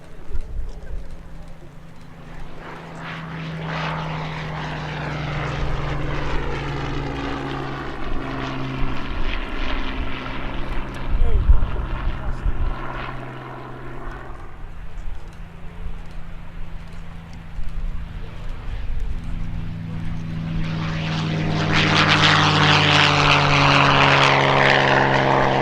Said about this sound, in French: ouvrons grand nos oreilles pour le moteur Merlin du Hurricane